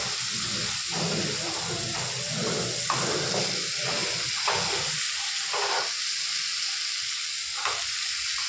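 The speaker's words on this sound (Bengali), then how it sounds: "এবার মাছটা আর ডিমটা আমি এর মধ্যে দিয়ে দেবো, দিয়ে একটু নাড়াচাড়া করে নেব।" Fish and fish roe go into a pan of frying masala that has already released its oil and are stirred. The result is a steady, close hiss of sizzling oil with occasional soft scraping knocks.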